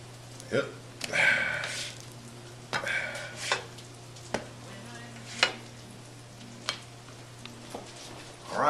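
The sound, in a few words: eggs frying in olive oil in a pan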